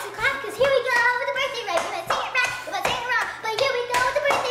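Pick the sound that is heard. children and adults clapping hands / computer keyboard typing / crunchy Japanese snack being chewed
children and adults clapping hands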